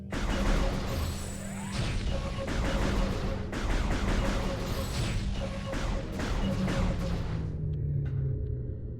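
Video game gunfire crackles in rapid bursts over a rumbling in-game soundscape, loud and dense with whooshes and metallic clanks, and a player talks over it.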